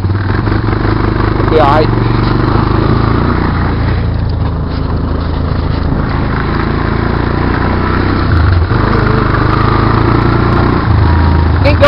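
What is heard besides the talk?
Honda Recon quad ATV engine starting and running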